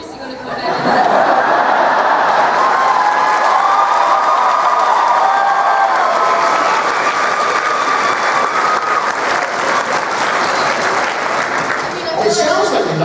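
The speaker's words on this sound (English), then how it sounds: "I didn't interpret that applause as people not liking me" Loud, sustained applause from a convention panel audience at Awesome Con 2016 fills the room for over ten seconds, mixed with scattered laughter and crowd chatter before tapering near the end.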